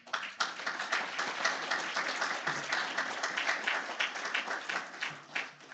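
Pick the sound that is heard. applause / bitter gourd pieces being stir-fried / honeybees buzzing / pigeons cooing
applause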